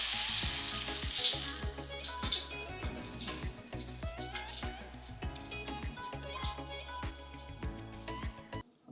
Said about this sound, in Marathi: मंद आचेवर याला आपल्याला कडक तळून घ्यायचं आहे.